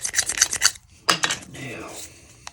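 A metal tool scrapes the brass bolster of a Case XX or Queen pocket knife in a few quick rasping strokes, close and clear, followed by a longer, softer rub.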